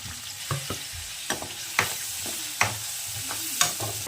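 Green chillies and onion frying in about two tablespoons of oil in a pan, with a steady sizzle broken by a series of sharp spatula scrapes and taps, close and clear with no talking.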